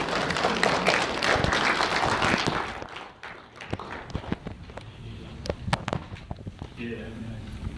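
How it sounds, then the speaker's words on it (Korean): Applause from a crowd welcoming a pastor at a rally, a loud dense wash of clapping that thins into scattered claps and taps, with a voice speaking near the end. "뜨거운 박수로서 환영해 주시기 바랍니다"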